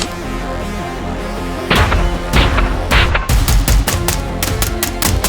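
Mk12 sniper rifle shots on an outdoor range, first a few spaced loud cracks, then a rapid string of sharp reports closely spaced near the end, all loud and close.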